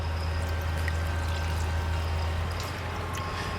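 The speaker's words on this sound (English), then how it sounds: "I'm going to put a little bit of water in the bottom" Water pours in a steady stream into a pot over a Trangia alcohol stove while a Cornish hen cooks, a continuous close trickle with a low hum beneath and no talk.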